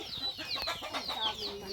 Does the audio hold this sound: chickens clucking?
yes